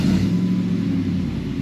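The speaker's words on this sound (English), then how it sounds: "We'll start the truck." A Ford Lightning pickup truck engine idles in a garage, a steady close, low rumble with no talk over it.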